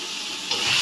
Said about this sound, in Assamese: পিঁয়াজ নহৰুখিনি এনেকৈ ভাজি আছোঁ